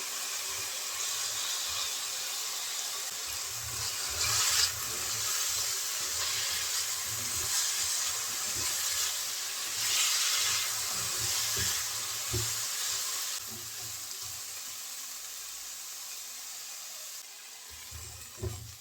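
Small cauliflower pieces frying in a pan with potato and carrot for an egg and vegetable noodle soup, a steady broadband sizzle and hiss with occasional clatters and scrapes, close and fairly loud, fading slightly near the end.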